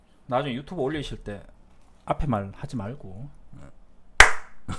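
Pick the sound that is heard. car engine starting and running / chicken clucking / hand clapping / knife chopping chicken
hand clapping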